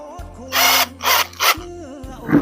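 A small hand-held power drill bores a tiny hole for threading wire, running in three short bursts of whirring with brief pauses between them, close and loud.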